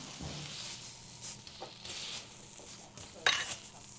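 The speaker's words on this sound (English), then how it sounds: "I can hear that sizzling away." Fish fries with a steady sizzle in a frying pan, a hissing crackle throughout, punctuated by a few scraping stirs and a brief louder clatter near the end.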